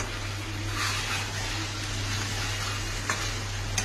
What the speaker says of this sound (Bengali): চিকেন রান্না হচ্ছে।